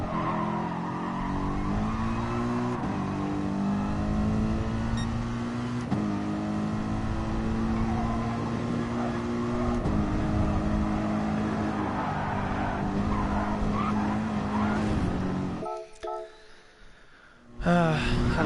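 Mercedes race car in GT Sport, its engine droning and rising through the gears in long revving sweeps, with tire squeal and a brief quiet gap before the roar returns loudly at the end.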